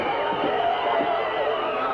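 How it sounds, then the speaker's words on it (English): A rowdy crowd at a wrestling match between Jake Roberts and Bill Anderson makes a dense, steady roar of shouting and cheering that fills the arena without pause. "This is a rowdy crowd."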